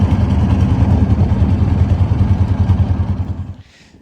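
A trawler boat's engine runs steadily and close by on open water near fishermen, a loud low throbbing that fades away sharply near the end.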